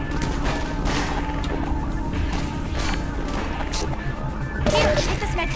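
Dense bursts of video game gunfire crackle and smash throughout, a continuous loud barrage with heavier impacts near the end, layered under players talking.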